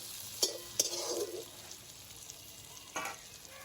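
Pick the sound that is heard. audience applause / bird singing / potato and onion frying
potato and onion frying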